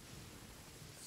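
Steady rain in a video game, heard as a soft, even wash of broadband hiss and low rumble with no voices over it.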